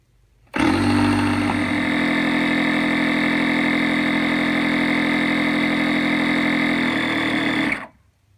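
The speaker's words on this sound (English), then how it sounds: "you will simply start your pump, and the pump will go off by itself" A Bravo electric pump inflating a stand-up paddle board switches on abruptly and runs as a loud, steady motorized drone for about seven seconds before cutting off by itself, with no voices.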